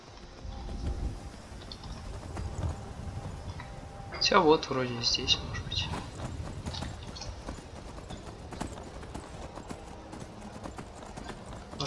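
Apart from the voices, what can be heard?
horse hooves galloping in video game Skyrim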